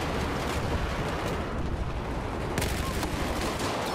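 Video game gunfire comes as a dense, loud barrage of overlapping shots with an explosive, noisy character, and a sharper burst of reports arrives about two-thirds of the way through.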